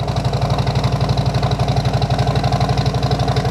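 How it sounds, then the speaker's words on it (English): A Harley-Davidson Road King with 50 cal slip-on exhausts idles after a cold start, its loud and close engine sending out a fast, even train of deep pulses without any break. "First, I'll do the Road King with the 50 cals. All right, cold start."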